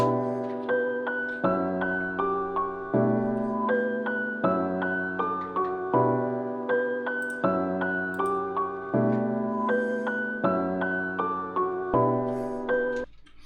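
A trap beat's melodic synth pattern with sustained chords and a repeating bouncy melody, looping steadily with light percussive hits, no voices.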